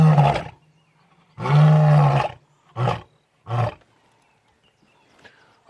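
A lion roars at sunrise on a Sabi Sand safari, one long loud roar followed by two shorter grunting calls, close and clear with quiet bush in between.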